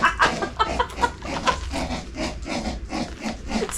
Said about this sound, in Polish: Ale ona serio chrumczy jak świnia.